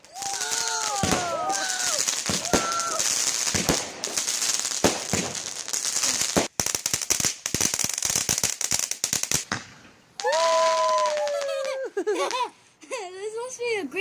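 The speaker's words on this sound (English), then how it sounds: "This must be a great fireworks show," Bonfire night fireworks crackle and pop in quick bursts, with people and children talking and laughing over the bangs and a high whistling tone rising near the end.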